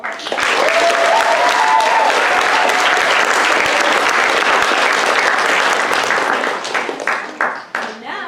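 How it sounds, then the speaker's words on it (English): Loud, sustained applause and clapping from a crowd at a senior graduation presentation, with a faint voice and cheering within it, tapering into scattered individual claps at the end. "We have another round of applause for all of our"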